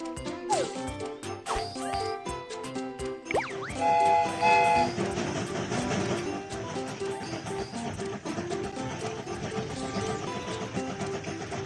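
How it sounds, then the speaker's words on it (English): Cartoon train setting off in a Baby Bus children's train-driving game, with game music, chimes and whistle-like tones layered over a steady rolling rumble, fairly loud throughout. "The train is about to start."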